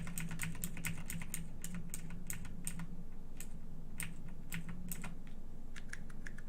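Rapid, uneven keystrokes on a Razer BlackWidow Chroma V2 gaming keyboard with non-clicky orange switches, a steady run of soft, close clacks with no tactile click, alone without talk.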